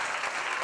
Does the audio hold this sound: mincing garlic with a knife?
no